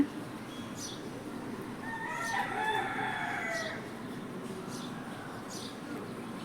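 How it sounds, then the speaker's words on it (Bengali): A rooster crows once at a distance in a village at dawn, a drawn-out cock-a-doodle-doo over quiet outdoor ambience with faint bird chirps. "মোরগ ডাকতেছে গ্রামের একটা ফিলিংস পাওয়া যাচ্ছে"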